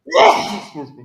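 A single sharp sneeze bursts out loud and close in a casual indoor setting, followed by a brief trailing exhale.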